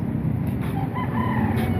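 A rooster crows over a loud, steady rumble of traffic or engine noise, the call partly buried in the din.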